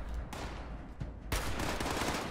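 Gunfire in Fallout 76: a sustained stream of rapid automatic shots, faint overall, with sharp onsets marking bursts a little past the start, around one second in, and again partway through, with no talk over it.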